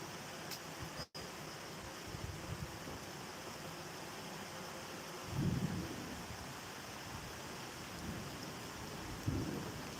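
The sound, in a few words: thunder in a storm, lightning strikes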